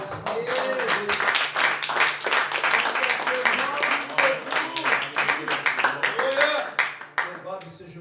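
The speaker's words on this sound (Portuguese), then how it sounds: "Vamos aplaudir Jesus, queridos." A church congregation clapping its hands, a steady broadband patter of applause lasting several seconds, heard under a voice that keeps speaking loudly over it.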